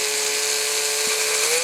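A 1.2mm drill bit whines at a steady high pitch while boring axle slots in a toy car base, running continuously and close up with no talk.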